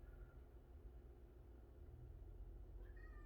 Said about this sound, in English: Oh, it's my cat.